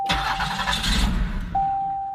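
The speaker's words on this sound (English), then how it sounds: "The car doesn't want to start." A 1990 Buick Reatta with a 3.8L V6 engine cranks close up, its starter churning for about a second and a half without the engine catching, while a steady electronic chime sounds before and after.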